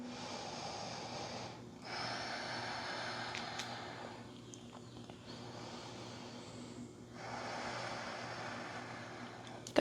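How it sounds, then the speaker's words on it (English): Deep breathing during a yoga flow: long, airy inhales and exhales in slow, even cycles, close and soft, with a short quiet gap between breaths and no speech. "Breathe deep."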